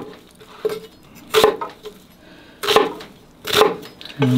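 A knife chops onion on a cutting board in a home kitchen, with several sharp, irregularly spaced knocks and clinks, close and loud with quiet gaps between strikes.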